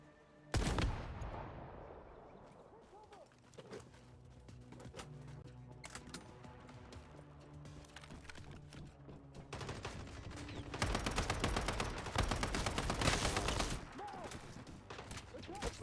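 Gunfire in the Once Human video game, sharp single shots and dense rapid bursts over background game music, with no talk.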